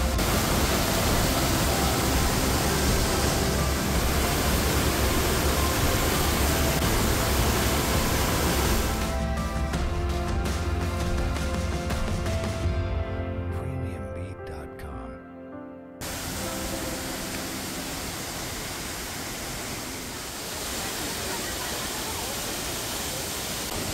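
Yunshen waterfall on a mountain hiking trail produces a loud, steady, broadband roar of falling water that fills the whole clip and dips briefly partway through before returning.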